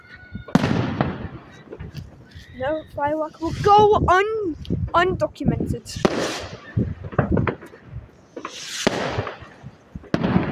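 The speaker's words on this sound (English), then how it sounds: "2 fireworks." Fireworks pop and crackle in a park at night, several scattered bursts and firecracker-like snaps near and far, mixed with voices and excited talking throughout.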